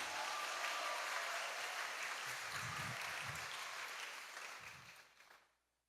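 A church congregation applauds during a Lent consecration service, a sustained crowd clapping that holds steady and then fades out to silence at the end.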